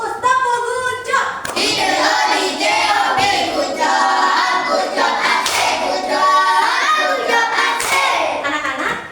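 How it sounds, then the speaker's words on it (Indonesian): A class of children performs a rhythmic cheer clap at school, with loud, close patterned clapping mixed with children's voices chanting along throughout. "Sekali lagi kita beri tepuk gujang untuk Uus."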